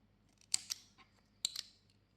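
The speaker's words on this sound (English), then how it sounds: "Chain 1 and cut the yarn." Scissors snip crochet yarn in two quick, quiet double cuts, crisp and close with a pause between them.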